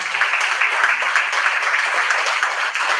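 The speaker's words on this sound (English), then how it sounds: "So please give them a big round of applause." Audience at a Sathya Sai regional conference and retreat applauds service project volunteers, a dense, even wash of clapping that carries steadily through the whole moment.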